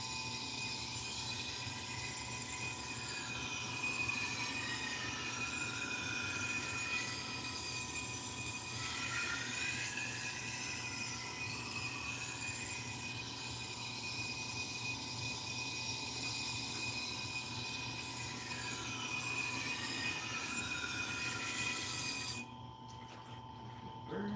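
A knife is sharpened on a sharpening machine in a shop, with a continuous whirring grind and repeated scraping passes that stop abruptly near the end.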